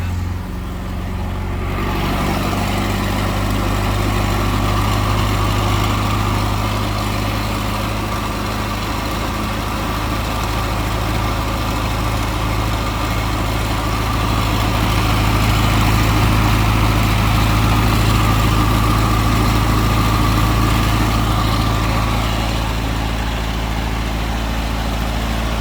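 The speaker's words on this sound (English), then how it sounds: "Has such a distinctive Alfa sound, you know?" A 1967 Alfa Romeo Duetto boat tail roadster idles steadily nearby, its engine giving a continuous low, even burble with slight swells in level and no talk over it.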